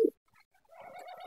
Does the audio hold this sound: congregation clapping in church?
no